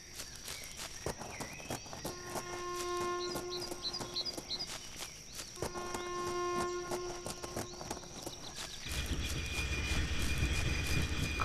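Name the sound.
train passing in the video game INFRA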